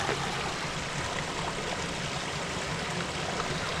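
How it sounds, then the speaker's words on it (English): Holcomb Creek flowing with waterfalls nearby, a loud, steady rush of water filling the whole clip with no voices. "Some waterfalls up there."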